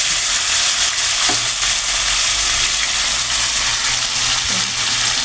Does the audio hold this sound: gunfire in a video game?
no